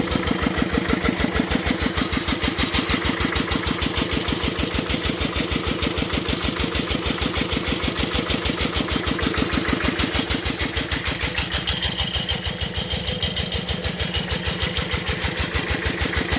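An engine-driven water pump with a long naga-style outlet pipe runs at low throttle. Its rapid, even thumping pulses are loud and close, with a steady mechanical drone throughout and no voices.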